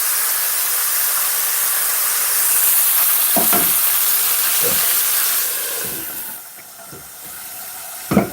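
Pieces of yakiniku chicken crisping in a hot pan, giving a loud, steady sizzle and steamy hiss that eases toward the end, broken by a few soft stirring taps, with no talk.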